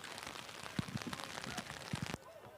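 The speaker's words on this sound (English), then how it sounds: "I'm not liking the look of this rain coming down at the moment" Rain comes down steadily at an outdoor local football match, a continuous patter and spatter of drops hitting surfaces, with faint voices mixed in beneath.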